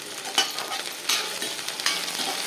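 Onions salted and sautéing in a pan over medium flame for hotel-style tiffin sambar, a light continuous sizzle with a few brief scraping stirs.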